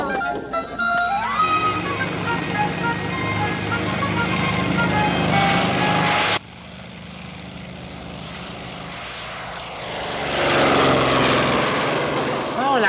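A propeller airplane drones overhead for most of the stretch, its engine tone strong and steady before dropping suddenly, then swelling again near the end, with faint talk around it.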